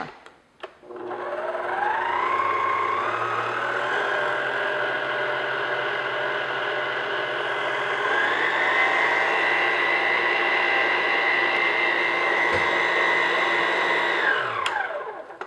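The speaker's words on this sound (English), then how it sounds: "I'm just going to beat that until it's light and frothy, just 1-2 minutes." An electric mixer beats egg with light brown sugar, starting with a click and then a close, loud, even motor whine that shifts pitch upward partway through before cutting off.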